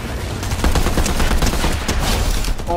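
Rapid automatic gunfire from a weapon in the video game Fortnite, a dense unbroken rattle of loud close shots filling the whole moment with almost no talk.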